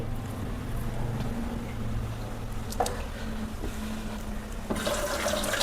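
Boiled noodles are drained, a continuous watery pouring and trickling close by with a low background hum, rising into a brighter splash near the end, without talk.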